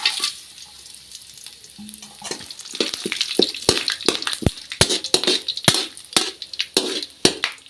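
Whole spices hitting hot oil in a pan for chicken fry, a soft sizzle broken by sharp crackles and pops that grow more frequent as the frying picks up, close and fairly loud.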